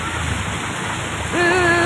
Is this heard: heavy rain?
yes